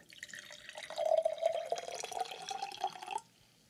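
Water pours into a glass, a steady trickle whose pitch rises as the glass fills, clear and close for about three seconds before stopping abruptly.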